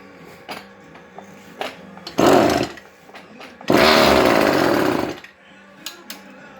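A weed eater motor fitted to a friction drive bike starts up in two loud bursts, a short rev and then a longer sustained run, separated by quieter clicks and handling noises.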